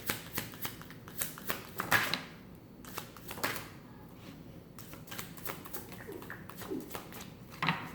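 Tarot cards being shuffled by hand, giving repeated close, crisp riffling and slapping bursts in an irregular rhythm across the whole stretch, with no talking.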